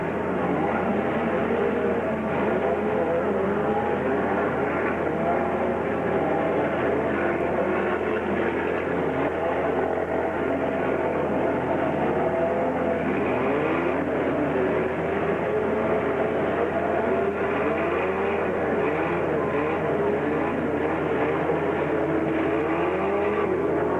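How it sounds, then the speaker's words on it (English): Four-cylinder mini stock race cars wind up and drone around the oval at Gasport Speedway, a dense, continuous pack of revving engines heard from trackside, loud and unbroken throughout. "Listen to these little 4 cylinders wind it up."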